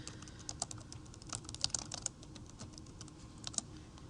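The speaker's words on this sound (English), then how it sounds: "And then I can start typing." Quiet typing on a computer keyboard while starting a new document, a steady run of soft, irregular key clicks with a few sharper taps, close and alone without any voices.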